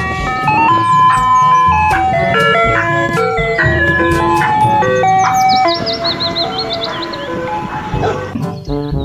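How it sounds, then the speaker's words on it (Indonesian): A toy ice cream truck plays its jingle, a loud electronic melody of bright beeping notes running continuously, with a warbling high tone joining partway through. "Di sini ada mobil es krim."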